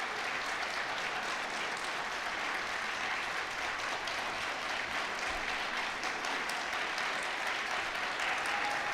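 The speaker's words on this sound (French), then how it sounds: "applaudissons nos diplômés" Audience at a 2021 Faculté des sciences humaines graduation ceremony applauds the graduates, a thick, sustained wash of clapping at a constant, fairly loud level for the whole stretch.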